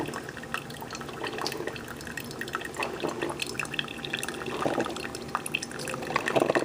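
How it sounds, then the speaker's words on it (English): A Cook's Essentials one-cup drip coffee maker brews with a continuous soft gurgling and dripping. Water spatters and bubbles irregularly and grows busier toward the end, with no talking. "This is like a mini version of a regular automatic drip coffee pot."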